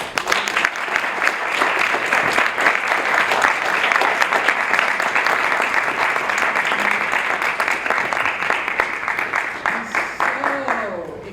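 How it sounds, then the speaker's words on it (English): A university audience at a campus panel on food apartheid breaks into sustained applause, dense clapping filling the room for about ten seconds before thinning out at the end, with a voice briefly audible as it fades. "one more round of applause for the"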